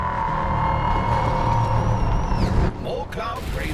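A strange alien signal on the 1558 MHz band plays back in the space game EverSpace 2, a steady droning tone with a wavering high whine. Near the end it breaks into crackling, glitchy bursts over a constant low rumble.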